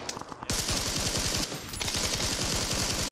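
Sustained automatic gunfire in the video game PUBG, a fast, steady rhythm of closely spaced shots, loud and continuous with only a brief break.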